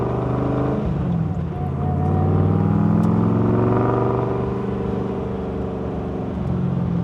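A Rocket Miata cruises through downtown with its engine droning steadily from inside the cabin. The pitch swells and eases as the car accelerates gently, and nobody speaks.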